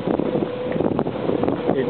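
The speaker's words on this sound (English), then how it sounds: "It's windy" Gusty wind buffeting the microphone outdoors at Fresh Pond Reservation in Cambridge, Massachusetts, a close rumbling roar with people talking over it.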